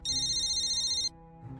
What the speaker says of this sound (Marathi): ईशाचा फोन आहे.